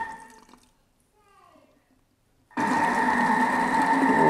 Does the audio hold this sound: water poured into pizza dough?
yes